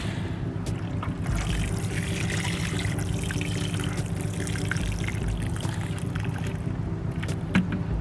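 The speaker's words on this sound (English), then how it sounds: "All right, and I'm gonna water this in." Rainwater from a bucket is poured to water in a newly planted grapevine in a backyard container, a steady trickling splash over a constant low hum, with no talk.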